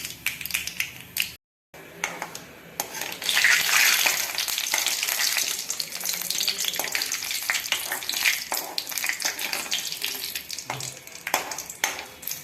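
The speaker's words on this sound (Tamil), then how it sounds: "கடுகு வடித்தாச்சு உளுத்தம்பருப்பு போடுறேன்" Urad dal and mustard seeds frying in a tablespoon of sesame oil, giving a loud, steady sizzle with scattered crackles and pops that carries on throughout after a brief silent gap near the start.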